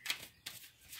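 A deck of cards is shuffled during a tarot-style reading, two quick, soft riffling bursts close by and fairly faint.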